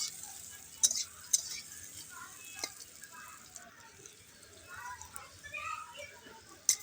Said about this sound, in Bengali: সর্ষের তেল দিয়ে প্রথমে বেগুনগুলো ভেজে নিতে হবে।